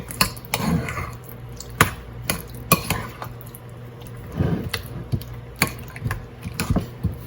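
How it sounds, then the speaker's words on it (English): Apple pie filling being mixed by hand in a bowl for apple pie cookies: close, irregular clinks of a utensil against the bowl with soft wet squishes in between, with no talking. "so just mix that up"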